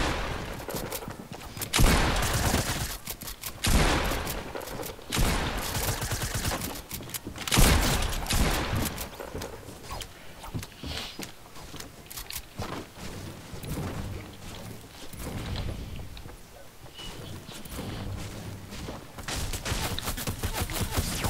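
Loud, dense bursts of rapid gunfire crackle almost nonstop, with heavier booming shots at intervals, like an intense video game firefight.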